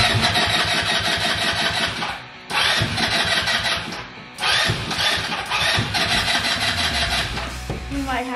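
A small gas engine on a mini Razor vehicle cranks and catches in several loud bursts with brief gaps, then settles into a steady, buzzy running drone, close by, with voices faintly underneath.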